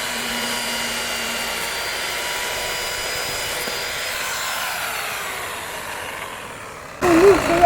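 A steady, droning tractor engine rumble from a tractor working a field runs continuously at a moderate distance, then cuts off abruptly near the end, leaving a brief burst of closer noise.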